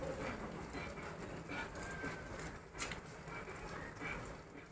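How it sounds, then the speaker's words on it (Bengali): A train rolls along a nearby railway line in Rampurhat on a morning, giving a steady low rumble with faint rhythmic clatter. It stays distant and quiet, with a few brief bird chirps over it. "আর এইবারও সকাল সকাল ট্রেন দেখতে শুরু করেছে"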